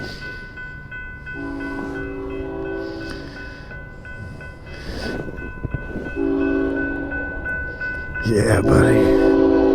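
An old freight train rumbles past with rolling, clattering cars and a long horn blast sounding twice, while someone says a few words over the noise.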